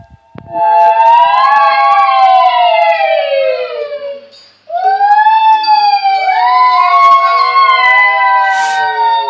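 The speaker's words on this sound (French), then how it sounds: "le bruit des sirènes" Loud wailing sirens sweep up and down in overlapping tones, with a brief dip in the middle before the howling resumes, continuous and close.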